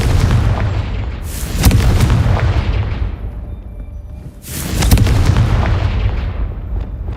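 Two heavy Confringo blasts from a spell in Hogwarts Legacy, each a sudden loud boom with a crackling burst that slowly rolls off, the second arriving about three seconds after the first.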